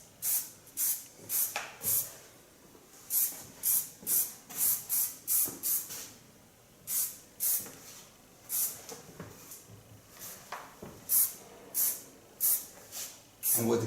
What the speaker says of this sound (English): With a little bit hairspray and fixate the hairs.